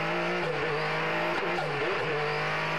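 Race cars, including a 1989 Porsche 962C, roar loudly along the start-finish straight on the opening lap of a vintage Rolex race, a dense sustained engine drone with pitch sweeps as the cars pass close by.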